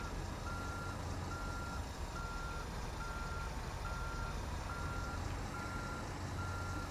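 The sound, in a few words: reversing truck beeps in American Truck Simulator video game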